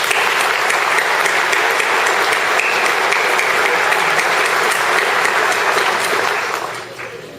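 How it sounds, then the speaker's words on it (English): A university graduation ceremony audience applauds the graduating students with loud, dense, sustained clapping that fills the room and fades out at the end. "I'd like to give them a round of applause for their work"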